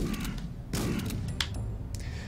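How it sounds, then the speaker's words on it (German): Gunfire in the VR horror game Nighttime Terror, played on an Oculus Rift DK2: scattered close shots over a low rumbling background, with a sharp blast near the middle. "ich schieße einfach mal so umher"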